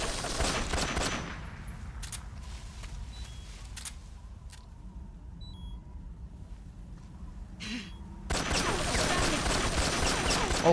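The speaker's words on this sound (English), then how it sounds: "She's gonna shoot me." Gunfire from a boss fight in Metal Gear Solid 3: Snake Eater opens the clip in a dense burst, gives way to quieter game ambience with a few sharp shots, then returns as loud sustained firing.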